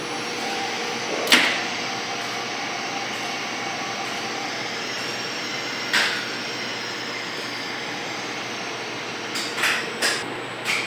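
A building elevator running as it descends: a steady mechanical hum and whir held throughout, with a sharp click or knock near the start, another midway and a short cluster of knocks toward the end.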